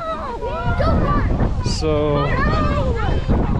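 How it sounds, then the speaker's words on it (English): Wind blowing outdoors at a pumpkin patch, a steady buffeting rumble across the microphone that runs beneath continuous nearby talk from several people. "goodness, it's windy."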